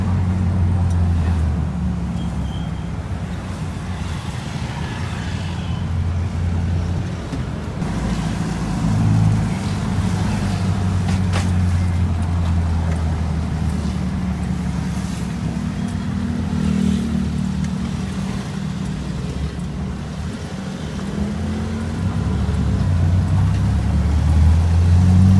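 Inside an old owner-type jeep crawling through heavy traffic over a large floodway bridge in Rizal, a steady loud engine drone and road rumble persist throughout, with no speech.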